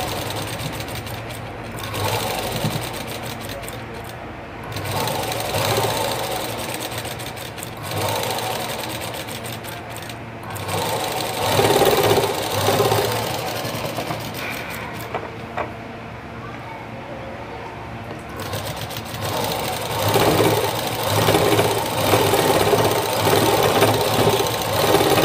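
A tailor's sewing machine stitches a blouse lining in long, fast, rattling runs with brief pauses between them, close and fairly loud, with someone talking in between.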